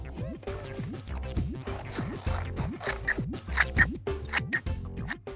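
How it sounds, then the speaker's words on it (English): Sharp snipping clicks of scissors cutting shapes out of card in a children's craft show, heard over cheerful background music. "we can cut these shapes out, but be careful because scissors are sharp."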